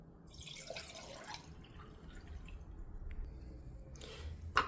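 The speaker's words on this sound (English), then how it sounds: "First, you pour in the water." Water poured into an espresso coffee maker, a faint trickling and dripping splash that comes in short bursts, quiet and close.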